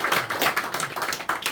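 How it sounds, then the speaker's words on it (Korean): Congregation clapping during a Sunday morning Pentecost church service, a steady, fairly quiet patter of hands lasting briefly with no talk over it. "박수 올려드리겠습니다."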